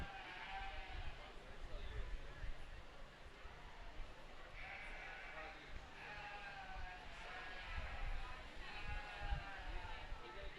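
Sheep bleat repeatedly at an FFA sheep show during the Custer County Fair, several calls rising over crowd murmur and background chatter in a busy barn or arena, with a voice talking at times.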